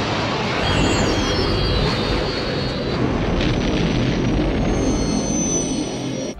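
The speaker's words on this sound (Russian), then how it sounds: "Для них Бёрд записал шум двигателей старых самолетов," A Star Wars starship sound effect, built from recordings of old aircraft engines mixed with explosions, slowed thunder and animal growls, roars continuously like a passing jet, with thin high whines sweeping above the dense rumble.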